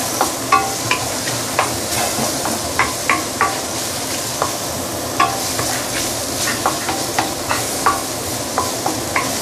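Ginger frying in oil in a pan, with a bright constant sizzle and regular spatula stirring taps that recur about every half second, close and fairly loud.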